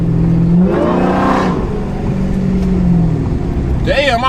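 A supercharged 5.7 Hemi engine revs up loud and close, the pitch climbing and falling in a couple of throttle bursts before settling, with a brief rising whine near the end.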